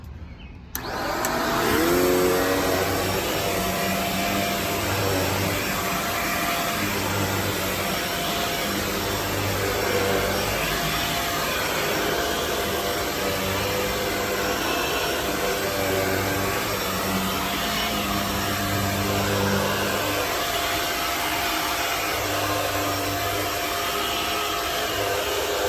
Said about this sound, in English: So I'm going to plug in my vacuum and we're going to vacuum this here